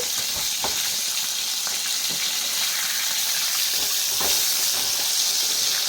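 A fish head fries in hot oil while it is flipped over, giving a loud, continuous sizzle with scattered crackles and a brief surge of spitting partway through. Nobody speaks.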